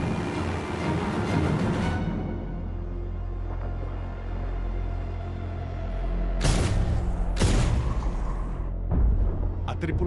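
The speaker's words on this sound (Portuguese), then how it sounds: "A tripulação ouve as explosões à distância." Distant bomb explosions from an aircraft attack on a submarine, heard as two low, heavy booming bursts in the latter half over a steady rumbling background.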